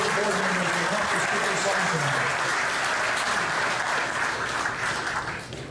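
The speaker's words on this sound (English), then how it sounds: "give these folks a round of applause" Steady applause from an audience at a chamber of commerce centennial anniversary event, honoring the present board members; dense, sustained clapping throughout that eases slightly toward the end, with a murmur of voices mixed underneath.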